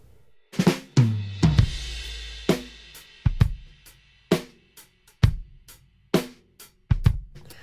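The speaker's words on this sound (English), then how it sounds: "transient designer is taking that kick and really make it super punchy" Punchy kick drum hits shaped by a transient designer plugin, about a dozen in an uneven pattern, each with a sharp attack and booming low tail, played alone.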